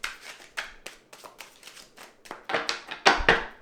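Tarot cards being shuffled by hand, a run of soft papery riffles and taps that build in loudness toward the end, close by and alone with no talking.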